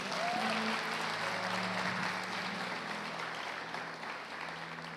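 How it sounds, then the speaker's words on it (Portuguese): Applause from a church conference audience hums along at a fairly low level, a broad wash of clapping that slowly fades as it goes on. "Aplauda Jesus"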